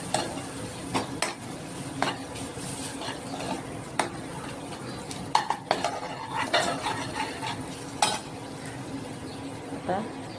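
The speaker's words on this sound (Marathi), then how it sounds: "याला चांगलं परतून घ्यायचं, एकजीव करून घ्यायचं." Onion-tomato masala with spices and salt is sautéed in a pan, a spoon scraping and clinking against the metal in quick repeated strokes over a constant sizzle, close up.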